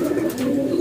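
A racing pigeon entered in a race coos loudly and close by, one brief steady throaty note with no talking over it.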